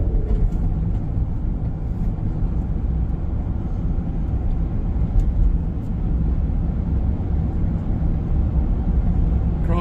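A car drives along a road on an autumn ginkgo-lined route, giving a steady, loud, close interior drone of engine and tyre rumble that holds level throughout with no clear change.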